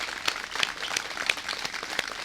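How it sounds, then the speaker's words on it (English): Applause for the local businesses at an outdoor ribbon-cutting ceremony for a Moreton Bay fig tree project, a thin, fairly faint patter of scattered claps from a small crowd with a few sharper individual claps standing out. "Can we give a round of applause to the folks who did this work, who performed it?"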